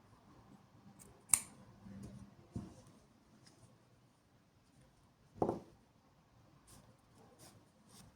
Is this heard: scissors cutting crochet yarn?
yes